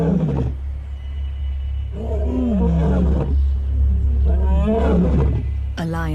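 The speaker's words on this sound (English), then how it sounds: "The roar echoing along the river means that big male lions are on the prowl." Big male lions roar along a river in the African wild, a series of deep, heaving grunting roars rising and falling loudly and close, over a low rumbling background.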